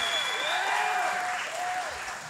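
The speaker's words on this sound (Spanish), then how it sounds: "Démele un aplauso." An audience applauds steadily at a student variety show, a dense, even patter of clapping throughout with a faint tonal whistle riding over it.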